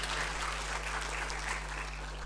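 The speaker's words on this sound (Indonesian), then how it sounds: "Sudah tepuk tangan dulu untuk para bupati wali kota kita" Brief burst of audience applause in a government hall for regents and mayors, dense and fairly faint, with a steady low electrical hum underneath.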